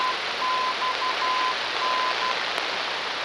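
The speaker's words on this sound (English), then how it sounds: "How often does it play the Morse?" Morse code identifier from a VOR navigation station, a steady tone keyed in short and long dashes over a constant broadband hiss of cockpit or radio noise, clear and fairly loud with no talking.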